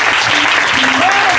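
A church congregation applauding, dense, loud and continuous clapping from many hands filling the room, with voices calling out over it.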